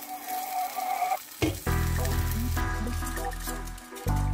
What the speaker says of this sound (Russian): Жарим 5 минут на среднем огне